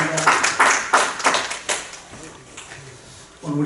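A church congregation claps after a hymn during a Sunday sermon service: a scattered burst of hand claps rising quickly, then thinning out and fading into quieter room noise.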